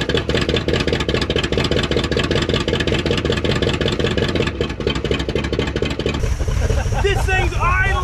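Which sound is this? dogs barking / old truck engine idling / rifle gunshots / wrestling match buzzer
old truck engine idling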